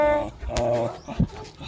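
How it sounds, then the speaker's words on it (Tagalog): Star, a family pet dog, whimpers in short high-pitched whines and yips close by, a few brief cries over about two seconds. "ayan pala si Star, ang aso naming isa na pinaampon sa amin"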